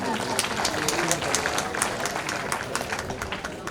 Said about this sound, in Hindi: प्रस्तुति के लिए एक बार जोरदार तालियां।